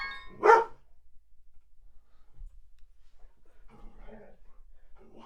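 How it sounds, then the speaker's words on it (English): A dog gives one sharp, loud bark near the start, followed by quiet and a few faint muffled sounds. "dog's barking now."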